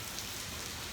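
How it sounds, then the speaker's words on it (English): Rain falling outside a garage, a steady soft hiss of drops on surfaces with no other sound, even in loudness throughout. "it's raining like a mug"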